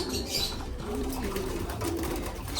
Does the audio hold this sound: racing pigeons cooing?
yes